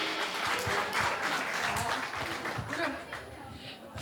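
Guests at a wedding celebration clap together, a continuous, moderately distant roll of applause filling the room without any clear voices.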